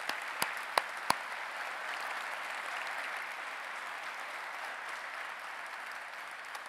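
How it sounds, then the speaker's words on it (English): A conference audience at a tech talk gives a round of applause for the event volunteers, a few sharp early claps swelling into a steady, even wash of clapping that holds throughout, somewhat distant in a large hall. "So let's have a round of applause for all the volunteers."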